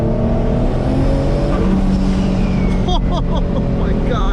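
Twin-turbo Infiniti G35 coupe making about 570 hp, engine loud and close as it rolls into boost and lets off, with turbo whooshes and chirps near the end.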